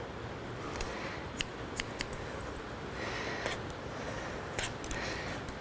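Scissors cutting hair for a uniform layer cut in a salon, a string of faint, crisp snips scattered over a steady background hiss, close but quiet, with no talking.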